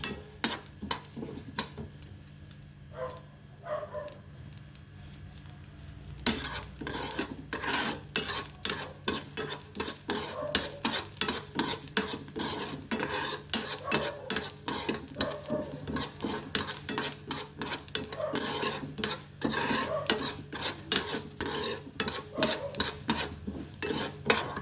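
Pickle ingredients for a spicy Telugu tinda (chinthakaya) avakaya are stirred and fried together in a pan, with a steady rapid scrape and clatter of a spoon against metal over a continuous sizzle, close and busy for most of the stretch after a quieter start.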